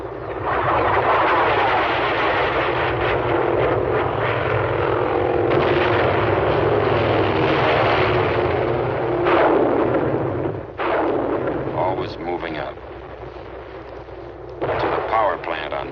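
Artillery barrage and napalm strikes in a Korean War newsreel: sustained loud, dense rumbling bombardment with continuous heavy blasts and roaring fire, a few sharper bursts near the end, and no talk.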